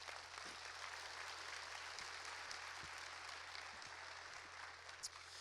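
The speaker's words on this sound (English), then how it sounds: "So please give them a big round of applause." A big round of applause from a tech conference keynote audience, a steady, fairly distant wash of many hands clapping, with a low hum underneath and occasional louder individual claps.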